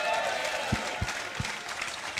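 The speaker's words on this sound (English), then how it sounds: "give them a big round of applause" Applause from a studio audience at a rugby discussion show, a steady broad clatter of clapping with a few sharper low thumps partway through.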